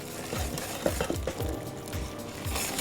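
Boiled milk being poured into a custard mixture for crème renversée while a whisk or spoon clinks steadily against the bowl, a soft rushing pour under quick, close metallic strokes.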